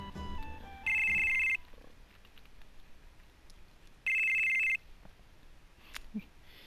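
An in-game phone ringtone from Final Fantasy VII plays in two identical electronic trilling bursts, each under a second long and a few seconds apart, over a quiet background.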